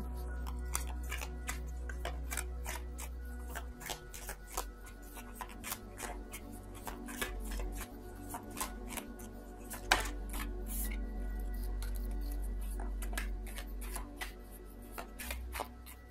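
Tarot cards shuffled by hand in a quiet room, a long run of soft riffling taps and slaps, close and faint, continuing steadily with a few sharper snaps along the way.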